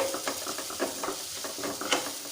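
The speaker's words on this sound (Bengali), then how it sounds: "তড়কা মশলা 1 চামচ মতন দিয়ে এটাকে একটু সামান্য নাড়তে থাকবেন" Tadka masala stirred in a hot pan for a dhaba-style egg tadka: a soft sizzle runs under quick repeated scraping strokes of a spoon, close and even, with no one talking.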